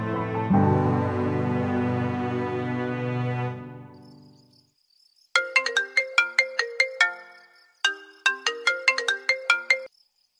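A mobile phone rings with an incoming call: a sustained tonal ring fades away, followed by bursts of bright, rapid chiming ringtone notes in two short runs, clear and moderately loud in a quiet room.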